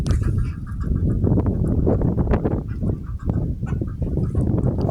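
Domestic geese honking loudly and repeatedly at close range in a farmyard, with ducks, chickens and turkeys nearby, the calls overlapping in a continuous noisy chorus with no talk.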